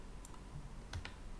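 A few quick, light clicks of keys pressed on a computer keyboard, close and fairly faint over a low background hum, with no talk.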